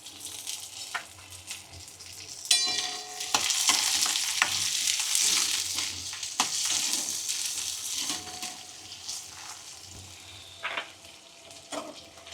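Shelled peas and mixture stirred in a pan on a low flame, soft sizzling with intermittent scraping and clattering of a spoon against the pan, close and uneven.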